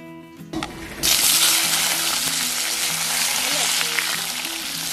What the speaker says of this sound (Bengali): এবার আলু বেগুনটা একটু ভেজে নিতে হবে